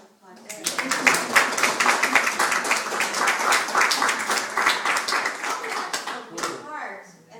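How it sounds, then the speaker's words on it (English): An audience at a NASA talk breaks into loud, sustained applause that swells quickly, holds steady for several seconds, then tapers off. Scattered voices can be heard in the crowd. "can we give a round of applause?"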